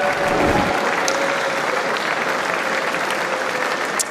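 Adelaide crowd at the 2015 AFL draft breaks into sustained applause for a local pick, a dense, steady clapping wash with cheers that holds at full strength throughout without fading.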